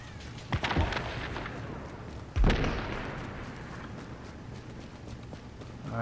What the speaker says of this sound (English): Alright, here is some gunfire going on.